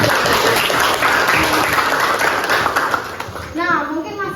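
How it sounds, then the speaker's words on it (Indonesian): A high school class claps together in a full, loud burst of applause, with children's voices chattering through it and a voice rising near the end. "Oke, tepuk tangan dulu."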